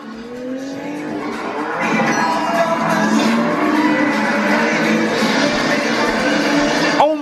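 A Toyota Supra sports car at a Caffeine and Octane car meet passes close by, its engine rising into a loud, sustained roar with a tire squeal, and people talk around it.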